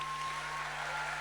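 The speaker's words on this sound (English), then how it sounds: "Huge round of applause for Karan Johar." A brief burst of faint audience clapping at a film event honouring director Karan Johar, even and continuous over a steady low electrical hum.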